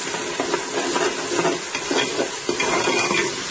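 Masala being stirred and fried in ghee in a pot for mutton paya, with repeated scraping stir strokes over a steady close sizzle and no talking.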